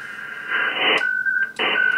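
Ham radio signal from a radio monitor speaker in a loud room: steady electronic tones that switch pitch and break off between bursts, with noisy transmission blasts over them.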